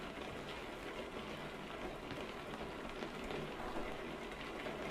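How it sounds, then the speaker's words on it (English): Rain falling in Euro Truck Simulator 2, a steady, even hiss of raindrops drumming on the truck, with no pauses and no voices. "it's raining"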